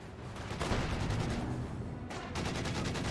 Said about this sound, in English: Dishka firing away, pinning down the Volksgrenadiers